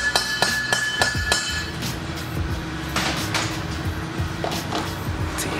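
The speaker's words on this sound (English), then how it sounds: "It's a hammering over there." Sharp metallic hammer strikes ring out in a garage where a V8 engine is being fitted to a Civic, coming in irregular bursts of several quick blows over a background hum of the workshop.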